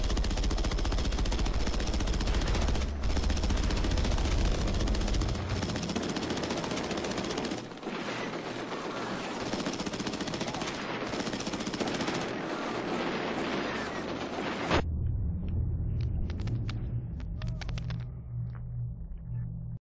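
Sustained, loud turret gunfire in the video game Killzone Shadow Fall, a dense unbroken roar of rapid shots lasting about fifteen seconds, then dropping to a quieter rumble with scattered distant bursts.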